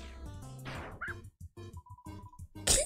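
Short yips and barks from a dog in the video game Undertale, a quick run of clipped, evenly spaced electronic-sounding barks, close and alone, ending in a brighter burst.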